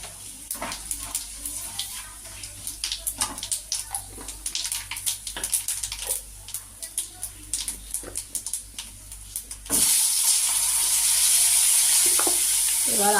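Bay leaves, whole cumin and dried red chillies sizzle in hot oil in a frying pan, first as dense crackling spits and pops, then jumping to a louder continuous hiss for the last few seconds, close up with no clear speech.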